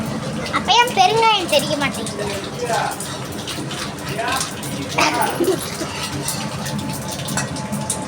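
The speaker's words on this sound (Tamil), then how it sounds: "கடுகு நல்லா தெரிக்கணும்" Mustard seeds crackle and pop steadily in hot oil in a pan while someone talks over it, the sizzling spatter running beneath her voice.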